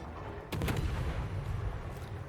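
Naval guns fire in World of Warships, a short cluster of booming shots that rises suddenly and then decays into a low, rumbling roar.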